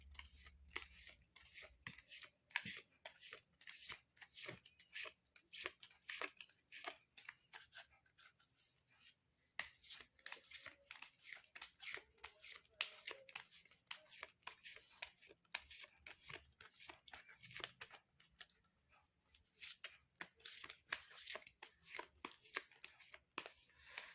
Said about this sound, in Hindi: Let me shuffle the card and then I will start the reading.